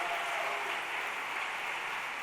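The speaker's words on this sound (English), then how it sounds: "Can you give him a round of applause?" A plenary-session audience applauds steadily at moderate volume, a continuous even wash of clapping with no voices over it.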